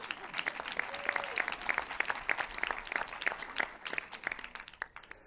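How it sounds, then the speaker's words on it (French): Festival audience applauding the youth jury, a dense patter of many hands clapping at moderate distance, steady for several seconds before thinning out toward the end. "qu'on peut applaudir."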